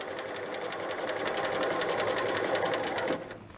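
A sewing machine stitching a dress collar, running in a steady rapid rhythm at close range for about three seconds before slowing and stopping.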